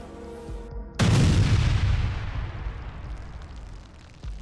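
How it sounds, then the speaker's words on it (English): A T-80 tank erupts in a massive explosion from a drone strike: a sudden, loud, broadband blast that booms and then rumbles and crackles as it slowly decays over several seconds, with a second sharp burst at the very end. "A massive explosion erupted, engulfing the T-80 in fire."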